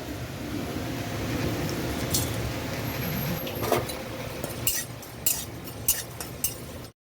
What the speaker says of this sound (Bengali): এখানে নিয়েছি গোটা গরম মশলা আর জিরে। এটা একটু শুকনো কড়াই এবার ভেজে নেব।